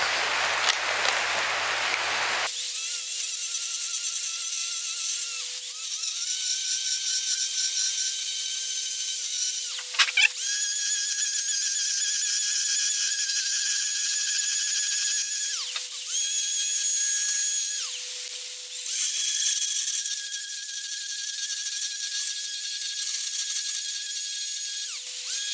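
Metal is ground with a power tool during the mock-up of a Chevy 372 engine: a loud, steady high whine runs in several long bursts, each broken by brief pauses.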